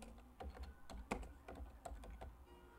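Quiet keys clatter on a computer keyboard as map data is typed into GIS software, an irregular run of soft clicks and taps close by with no voices.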